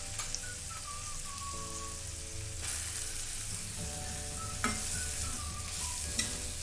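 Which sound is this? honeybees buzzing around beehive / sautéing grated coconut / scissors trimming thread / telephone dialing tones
sautéing grated coconut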